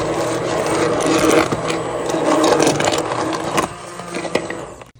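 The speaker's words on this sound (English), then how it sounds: "we're gonna go ahead and use the hand blender just to get the spinach blended a little more" A hand blender whirs through cooked spinach for callaloo with crab, a steady close grinding buzz with scraping against the pot that tapers off at the end.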